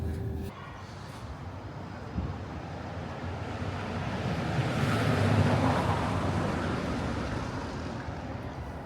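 Strong wind gusting across an exposed viewing platform high on a tower in Wrocław, Poland, a steady broadband roar that swells toward the middle and stays loud throughout, with no talking.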